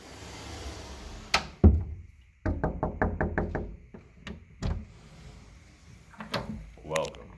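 A linen closet door in a hallway of an old abandoned house being opened, with a series of sharp knocks and clunks from the door and latch, a dense burst of rapid taps, then scattered bumps under a voice speaking.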